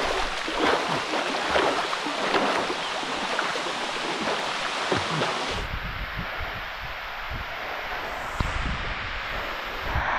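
Water pours and splashes steadily from a small waterfall at an Australian beach, a dense continuous rush heard close up with no voices over it.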